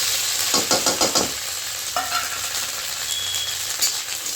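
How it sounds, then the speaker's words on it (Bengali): Grated coconut frying lightly in a wok, a soft continuous sizzle under quick rhythmic scraping strokes of a metal spatula, close by, with a few clinks against the pan. "নারকেলগুলো আমি হালকা করে ভেজে নিয়েছি"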